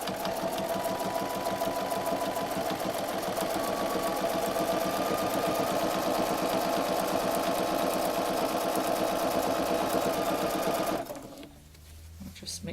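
A sewing machine stitching binding onto a quilt runs at a fast, steady rhythmic chatter for about eleven seconds, close and fairly loud, then stops abruptly, with faint talk after it.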